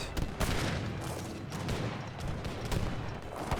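Heavy cannons firing in the video game Age of Empires 3, a series of sharp, loud booming shots at irregular intervals over a continuous background of battle noise.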